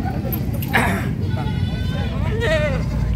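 A goat bleats a couple of times at a livestock market in San Carlos City, amid steady background noise and people talking nearby.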